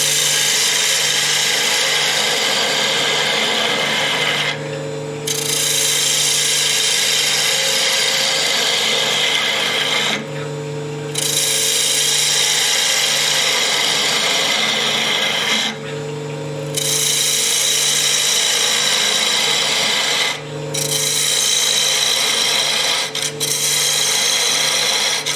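A wood lathe turns an end-grain goblet while a tool takes material off, producing a loud, continuous scraping hiss broken by brief pauses about every five seconds, with no talking.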